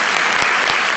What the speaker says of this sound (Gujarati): એકવાર જોરદાર તાળીના ગડગડાટ એને વધાવો.